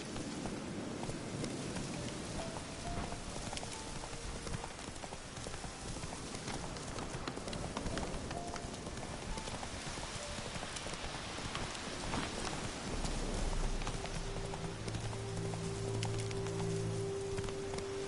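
Horse hooves clip-clop steadily at a gallop through most of the stretch, ridden as Roach in The Witcher 3: Wild Hunt, with rain-like patter and game ambience underneath.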